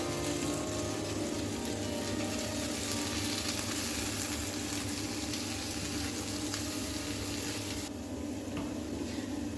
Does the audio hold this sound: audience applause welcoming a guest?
no